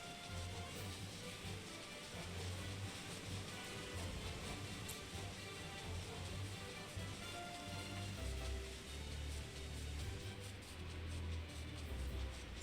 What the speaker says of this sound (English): we'll get out of the rain